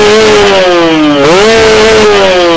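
A Kawasaki Ninja two-stroke motorcycle with a PWK 33 carburetor revs hard and close, its loud engine note dipping briefly then climbing again, with no talking.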